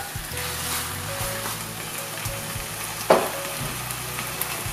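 Chicken pieces and tomato frying in a pan for Thalassery-style chicken biryani, with a steady loud sizzle and a single sharp clink of the stirring spoon partway through.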